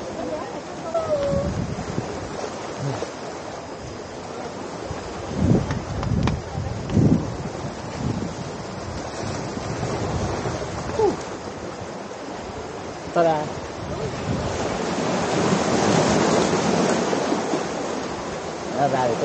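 Sea waves break on Queen's Beach in Quy Nhon, a continuous surf wash with wind noise on the microphone, swelling louder near the end, with people talking over it.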